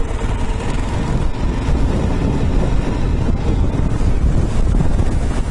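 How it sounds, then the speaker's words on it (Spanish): Strong wind in Tierra del Fuego buffets the microphone in a steady, roaring rush with no pauses, loud and close throughout. "Y como no puede ser de otra manera, nos recibe un ventarrón."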